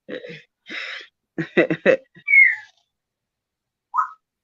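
A bird gives a few short chirps and a quick run of whistled notes, then a rising whistle and one last brief call after a pause.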